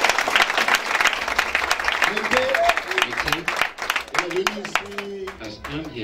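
A church congregation applauds loudly and steadily from start to end, many hands close together, while voices speak over the clapping.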